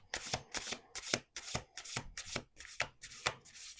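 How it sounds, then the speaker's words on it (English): Oracle cards are shuffled by hand in a steady series of about nine quick, close riffling bursts, each a crisp papery flutter separated by brief pauses. "I'm doing one more shuffle because I can't remember if this is the first one or the second one"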